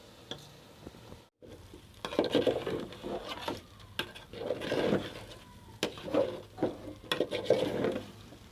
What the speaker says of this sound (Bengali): চাল দিয়ে কষাই নিব, নিয়ে তারপরে পানি দিব